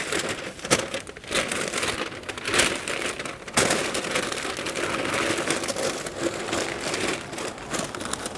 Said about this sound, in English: get this off the smoker, onto some paper. We're gonna wrap this up and let it rest and finish.